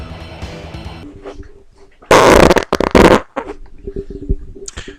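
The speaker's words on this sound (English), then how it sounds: "That was a fart." A loud, sputtering fart bursts out in a couple of quick blasts, surrounded by quieter room noise and faint murmuring.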